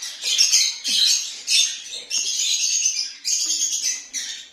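Young hatchling birds just emerging from their eggs give shrill, insistent peeping chirps in close, rapid bursts, one after another with short gaps.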